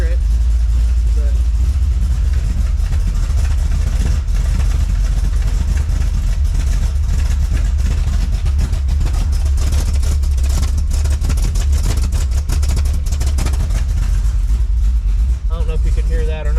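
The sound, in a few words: car engine exhaust through worn Magnaflow mufflers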